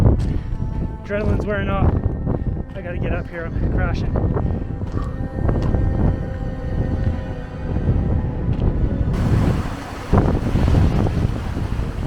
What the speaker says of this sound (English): the wind was absolutely just tearing. It was so windy up there.